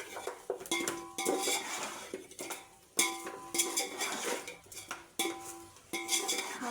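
A kilo of chicken being mixed with chili powder in a metal vessel for biryani produces repeated clanks, scrapes and clinks of a spoon against the pot in an irregular, close rhythm.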